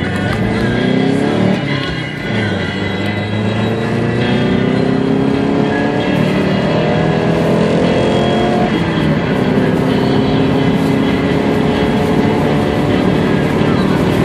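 A high-mileage Subaru with a five-speed manual and all-wheel drive accelerates from a standstill, its engine revving up through rising pitch sweeps with gear changes, loud and close from inside the cabin, with a voice speaking over it.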